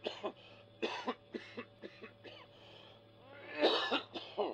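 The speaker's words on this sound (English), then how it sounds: "I heard him cough. Did you hear that cough?" A man coughs repeatedly in an old-time radio ghost-hunt drama: a run of sharp, fairly close coughs and throat-clearing bursts in an uneven rhythm, ending in a louder, harsher fit, with no speech over them.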